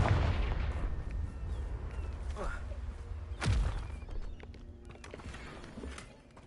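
A Confringo fire curse in Hogwarts Legacy explodes with a single sharp, loud burst partway through, over a rumbling game ambience. Fainter thuds and steps follow, and a voice speaks at times.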